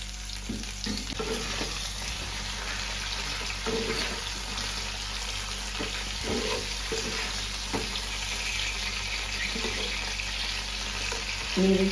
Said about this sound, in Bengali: তারপরে হালকা নুন লাগিয়ে এই কপিগুলোকে ভাজার জন্য দিয়ে দিলাম